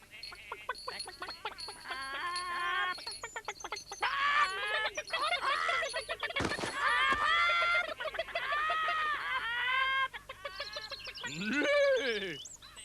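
Hens cluck and squawk in a busy, lively chorus, close by, with occasional louder calls rising above the chatter.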